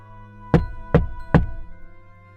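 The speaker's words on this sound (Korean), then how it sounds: "이번에는 문이 흔들릴 정도의 노크였다." Three loud, heavy knocks on a door, evenly spaced about half a second apart, each booming and ringing briefly before fading, with no voices.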